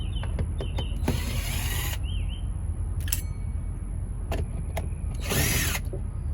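Phillips screws being removed from the bottom of a Lexus GS300 door panel, with several short bursts of power driver whirring, clicks and creaks over a steady background hum.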